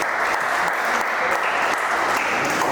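A crowd claps for a cartoonist being welcomed at a sangeet natya cultural festival, a loud, dense, continuous burst of applause from many hands with no pause.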